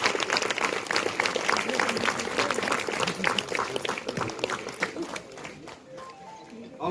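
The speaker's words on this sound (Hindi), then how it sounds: "जोरदार ताली हो जाए" Wedding guests clap together for several seconds in a room, a dense burst of applause mixed with chatter that thins out toward the end.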